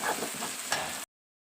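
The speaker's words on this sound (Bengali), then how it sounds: "এখন মশলাটাকে ভালো করে কষিয়ে নেব।" Turmeric, cumin powder and coriander powder fry in a pan with a soft, steady sizzle and light stirring for about a second before cutting to silence.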